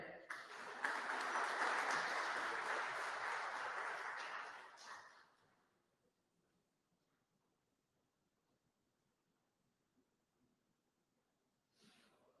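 Graduation ceremony crowd at Mount Mary University applauding graduates receiving doctoral and master's degrees, a broad, sustained wave of clapping that fades out over several seconds into near silence, followed by a brief burst of sound at the end.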